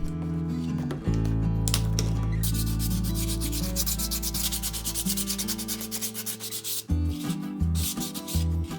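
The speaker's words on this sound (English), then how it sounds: "This time I tried some curved sanders cut from an old ice cream carton." Wooden turned eggs being sanded with curved sanders cut from an ice cream carton, a close, loud rhythmic rubbing and scraping with a brief pause near the end.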